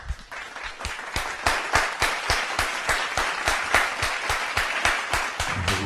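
Audience applause welcoming a guest at a French-speaking church gathering: rhythmic, steady group clapping with strong regular beats, fairly close and sustained throughout.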